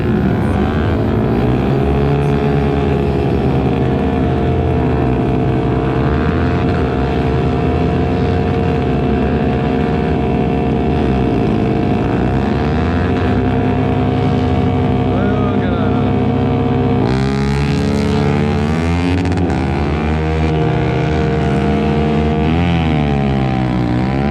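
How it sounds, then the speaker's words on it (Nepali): A racing motorcycle engine drones loudly and steadily, then its pitch shifts and sweeps as it roars past close by. "अर्को बाइक आयो जस्तो लागिरहेको थियो मलाई"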